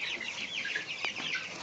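Hens clucking inside a backyard farm coop, a busy overlapping flock chatter with a couple of sharper calls rising near the end, steady and fairly close with no talk.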